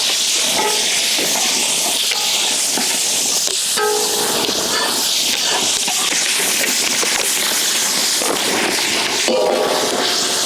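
Vinegar poured into hot oil for a fish pickle, a loud continuous hissing sizzle holding steady for the whole stretch with faint clinks of utensils, no talk.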